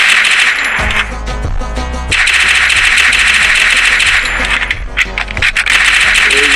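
UMP fire in a shooting video game comes as loud, dense bursts with metallic clinks over continuous game sound, and a voice speaks briefly.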